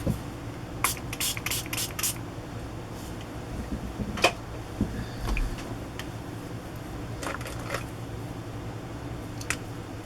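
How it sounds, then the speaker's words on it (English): A spray bottle of water is pumped close by onto a cardstock paper tag: a quick cluster of four or five hissing bursts, then a few scattered single sprays. "I think I'm going to try spraying that tag with water"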